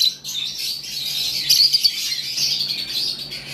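Violet mask parblue lovebirds call in a steady stream of high, sharp chirps and squawks, close and fairly loud, with a busier burst of calls in the middle.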